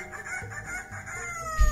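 A parrot mimics a rooster's crow, a brief rising-and-falling call up close, ending with a soft thump.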